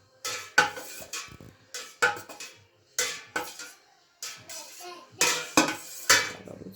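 Knife cutting curdled milk into one-centimetre cubes in a saucepan for pressed cooked cheese, soft repeated scraping and clinking strokes against the pan bottom, close and fairly quiet, about five evenly spaced passes.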